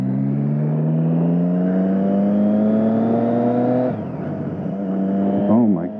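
A Triumph Street Triple 675 naked sport bike's engine revs up smoothly with a rising whine for about four seconds, then drops off and blips again near the end, loud and close.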